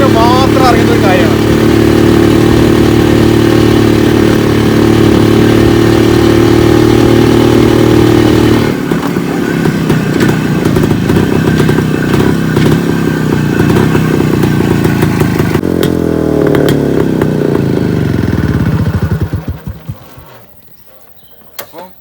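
A Yezdi Classic 250 motorcycle engine runs loud and close, a throbbing idle with a two-stroke-like beat that shifts in pitch as the revs change, then cuts off, leaving near silence.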